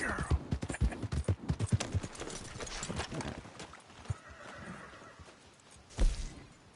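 Horse hooves clip-clop in the video game Red Dead Redemption 2 in a quick, close, uneven patter that fades and slows midway, followed by a louder thump near the end.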